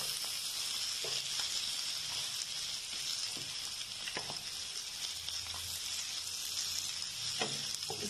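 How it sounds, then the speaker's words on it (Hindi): Capsicum frying whole in a pan with a steady, close hiss of sizzling oil, broken by a few soft clicks and pan knocks, with no talking. "इसको पूरी फ्राई भी करना है जो शिमला मिर्च है"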